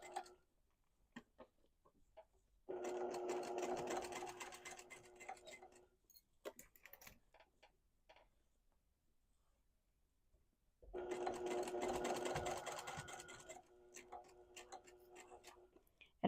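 A sewing machine stitches a skirt in two separate runs of steady mechanical whirring, each a few seconds long, with quiet pauses and small clicks between them.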